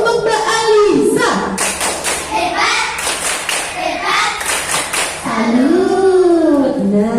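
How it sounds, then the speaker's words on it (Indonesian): A classroom group performing a rhythmic chant-and-clap routine, sharp patterned claps and thumps alternating with children chanting in unison, close and energetic. "Tepuk salut untuk Mbak Alisa."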